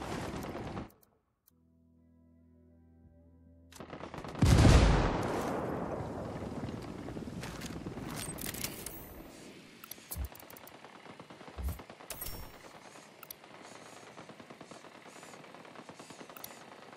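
Gunfire in Ghost Recon Wildlands: a loud, booming burst erupts after a quiet start, then a long rumbling tail with scattered sharp cracks and thuds continues at a distance.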